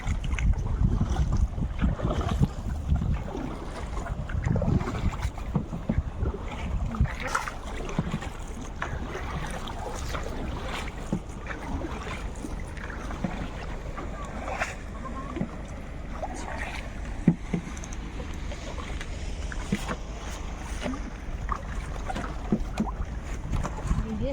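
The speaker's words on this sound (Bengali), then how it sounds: "এত বোট এখন নদীতে যে নৌকা নিয়ে চলাচল করা খুব মুশকিল" Steady rumble of many boats moving on a river in the Sundarbans, with wind buffeting the microphone and faint scattered knocks over the constant low drone.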